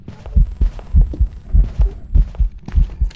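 During a ghost hunt in the video game Phasmophobia, a loud, close heartbeat thumps in a steady double-beat rhythm, about three beats per second, deep and muffled with no talking.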